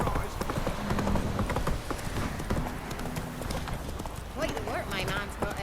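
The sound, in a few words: horse Roach clip-clopping in video game The Witcher 3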